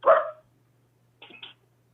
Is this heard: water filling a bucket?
no